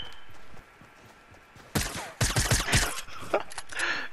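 Video game gunfire cracks in a dense burst of rapid shots after a quieter opening, loud and close, followed by a few scattered later shots over game ambience.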